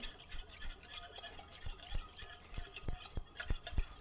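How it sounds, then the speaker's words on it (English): Whisk beating apple cider vinegar in a bowl, quick rhythmic scraping taps and light clinks repeating steadily at close range, fairly quiet. "Just whisk that in."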